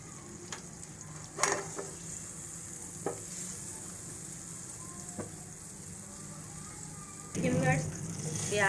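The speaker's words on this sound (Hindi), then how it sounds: "अब हम इसमें डालेंगे बटर।" Butter added to a hot pan to temper sarson ka saag gives a low, steady sizzle with faint stirring clicks, swelling into a louder frying crackle near the end while someone talks over it.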